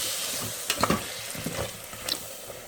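Prawn biryani sauce stirred in a pan, with a soft sizzle and a few scraping strokes of a spoon against the pan, one burst near the start and another later.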